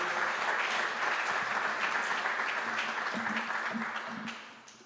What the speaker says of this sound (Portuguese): Vamos aplaudir bem forte o nosso Deus.